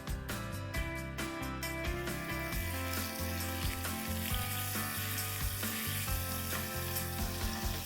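Soaked red chillies and ginger-garlic paste sizzle and fry loudly in a pan for several seconds, a dense, continuous crackle with clinking and stirring sounds on top and no talking.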